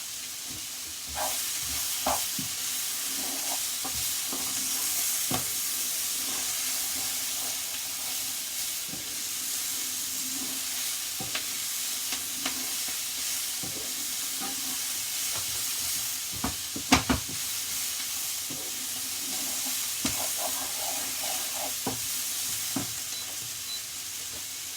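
Tuna and rice noodles stir-fry with chilli, garlic and ginger in a hot pan, giving a steady sizzle and hiss broken by frequent scrapes and clacks of stirring.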